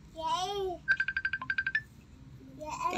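Cell phone ringtone chiming in a rapid run of about a dozen bright electronic beeps, loud and close, with a voice just before and after it.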